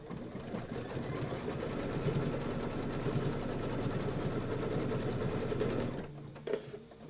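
A sewing machine stitches tack-down lines on a quilt block, producing a fast, even mechanical whir with a rapid needle rhythm that runs steadily for about six seconds before stopping abruptly, followed by a brief clunk.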